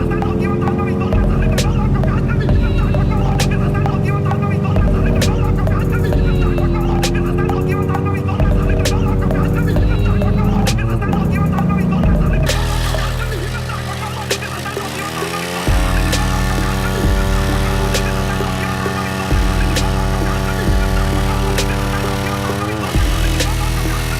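A car driving on bare metal wheel rims with the tires removed grinds against the road surface, giving a loud, sustained metallic whine with regular ticking scrapes and a shift in pitch partway through.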